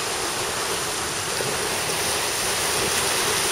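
Waves break on a sandy bay shore in a constant loud, broad wash of surf, heard alone and unbroken throughout.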